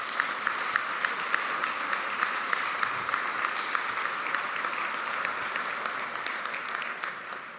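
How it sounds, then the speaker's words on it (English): Audience applause at the SpudTacular Gala 2022: a dense, steady wash of many hands clapping, close and sustained, with a few sharper claps standing out before it begins to taper at the very end. "let's give them a round of applause for the work that they've done for us"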